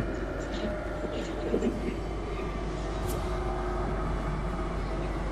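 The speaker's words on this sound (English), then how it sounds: "Oh, well, there goes the train." A steady low rumble of a train rolling past in a VR video game, a continuous mechanical drone with a brief higher rattle in the middle.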